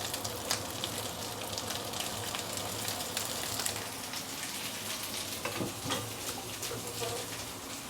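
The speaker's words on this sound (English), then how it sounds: "hot oil or hot surface get contact with the prawn, like right now" Prawns sizzle and crackle in hot oil over high heat, a steady close frying hiss with scattered pops and spits running the whole time, and no voices.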